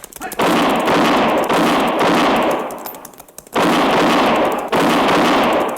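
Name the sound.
gunshots in a radio drama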